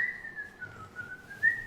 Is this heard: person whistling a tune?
yes